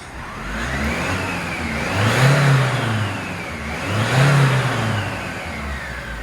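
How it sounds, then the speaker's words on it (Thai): An Isuzu D-Max 1.9 diesel pickup engine being revved twice, each rev rising to a strong roar and falling back to a steady idle, loud and close with no talk. "แล้วก็เวลาเบิ้ลนะครับ ก็เป็นปกติ"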